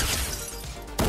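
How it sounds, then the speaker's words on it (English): Enemy shield cracking in Fortnite, a brief harsh shattering crash over a noisy game mix, ending in a sharp louder burst. "There we go, cracked his shield."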